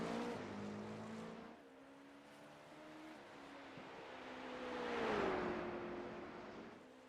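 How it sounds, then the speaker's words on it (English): Porsche GTP prototype race car engine in a sim racing game at Watkins Glen, a steady droning whine with shifting pitch that dips then rises and swells around the middle before settling, heard alone without talk. "now riding with Alex here in the 43 Porsche GTP"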